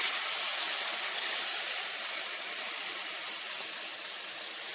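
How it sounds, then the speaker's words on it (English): Chardonnay poured into a hot pan with mushrooms, a loud, steady steaming hiss and sizzle that slowly eases. "I'm going to go ahead and add the wine real quick"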